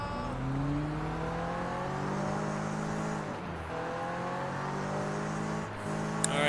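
A car engine in the video game Sleeping Dogs holding a steady drone with rising and falling revs, loud and continuous, dipping briefly midway before picking back up.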